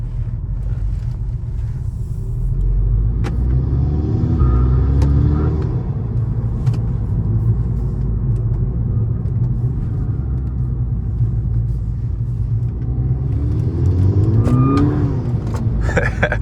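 Volkswagen Golf Mk6 GTI heard from inside while driving on a cold day, a steady low engine rumble with road noise and a couple of rising revs, continuous and close throughout.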